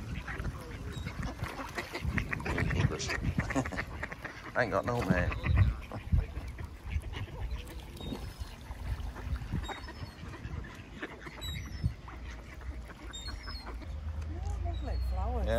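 Ducks and geese quack and honk around a park boating lake, scattered calls mixed with outdoor bustle while someone talks over them throughout.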